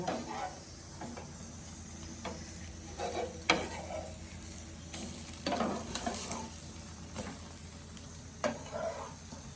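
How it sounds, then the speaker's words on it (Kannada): Food roasting in a pan on a home stove, a continuous soft sizzle broken by intermittent scraping stirs of a spatula, close by and moderate in level. "ಕಡಚಿ ಎಲ್ಲ ರೋಸ್ಟ್ ಆಗತ್ತ ನೋಡ್ರಿ"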